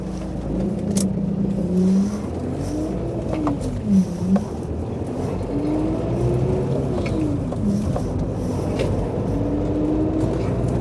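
A Rover 25 car engine runs with an odd noise, a steady close droning hum whose pitch rises and falls in slow repeating waves over rumbling road noise.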